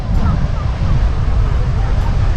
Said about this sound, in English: See the waves crashing over the reef?